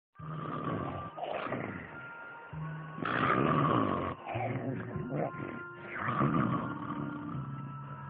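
A sleeping partner snores loudly, with several long rasping, growling breaths in an uneven rhythm and short pauses between them, close by, with no talking.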